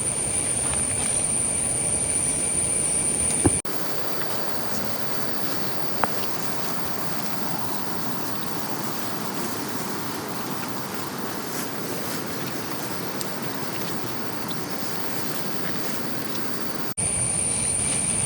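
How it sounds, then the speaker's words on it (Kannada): High-pressure river water at Kabbinale rushes with a constant, heavy roar, close and unbroken, with brief edit cuts near the start and end. "ನೀರು ತುಂಬ ಪ್ರೆಷರಲ್ಲಿ ಹೋಗ್ತಾ ಇದೆ"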